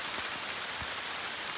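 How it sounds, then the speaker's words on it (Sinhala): Rain falls on the mountain summit trail toward Adam's Peak, a dense, even hiss of drops hitting the surface with a couple of soft thumps, close and continuous with no voices. "වැස්සක් යනවා."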